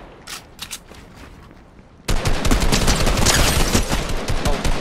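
Sustained assault rifle fire in a shooter video game, a dense rapid burst that starts abruptly after quieter scattered shots and stays loud and continuous to the end.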